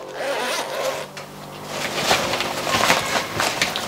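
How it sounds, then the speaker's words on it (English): Two-way zips on a OneTigris MOLLE pouch in multicoloured camo being zipped, several close, quick rasping zip runs in succession. "We've got two-way zips."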